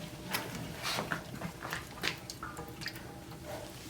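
A spatula scrapes thick olive oil soap batter out of a big pot, producing soft, wet squishing scrapes in irregular strokes, close and fairly quiet.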